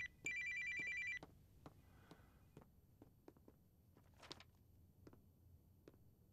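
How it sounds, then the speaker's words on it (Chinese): An office telephone rings once with a bright electronic trill, then falls quiet, leaving soft footsteps and small clicks in a hushed room. "乔总，我去接个电话。"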